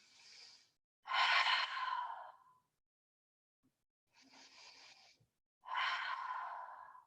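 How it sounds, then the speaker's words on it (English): Deep, slow breaths taken while holding a yoga bridge pose, three long exhalations separated by quiet pauses, each a breathy sigh-like whoosh heard close and alone. "And take 3 deep breaths here."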